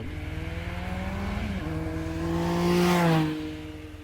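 A 2022 Triumph 1200 GT Pro motorcycle on the move, its engine holding a steady, close drone with rising and shifting tones as the rider accelerates and changes pace.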